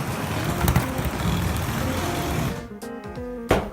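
A Hornby Edward R9289 model locomotive running while hauling a Pullman brake coach: a steady motor whir with track rumble, which stops near the end, followed by a few sharp clicks.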